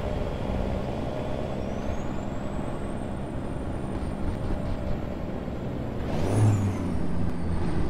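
Heavy truck engine in a trucking video game, a loud continuous diesel rumble with a faint high whine, then a sharp hissing air-brake release near the end, with no talking.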